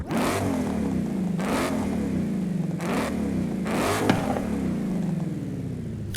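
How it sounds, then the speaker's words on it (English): A car engine with an upgraded exhaust system revs four times in Forza Horizon 5. Each throttle blast climbs sharply and then falls away, and the engine settles into a loud, rumbling idle between them, with no talking over it. "I'm telling you right now, with this upgraded exhaust system, this is what the car actually sounds like."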